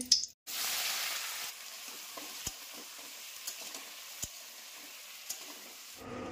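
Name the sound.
hot oil sizzling in pan for potato curry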